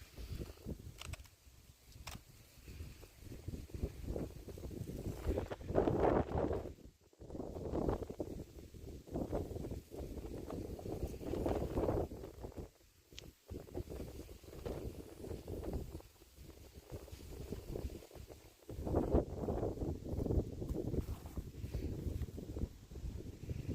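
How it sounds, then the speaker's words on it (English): Strong gusts buffet the microphone outdoors in a garden bed, rising and falling in loud rushing surges with brief lulls, with no talking. "It's just too windy to talk."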